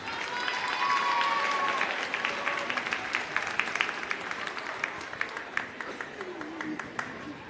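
Applause breaks out from the crowd at a Spencer County High School boys basketball game against Bardstown, with dense clapping and some cheering that slowly thins into scattered claps.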